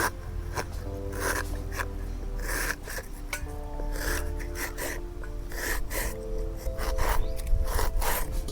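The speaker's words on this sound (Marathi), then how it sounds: "आता एकदम बारीक बारीक कापून घ्यायचा" Half an onion being finely chopped with a knife on a board, a steady run of quick, close, rhythmic cutting taps and scrapes with no talking.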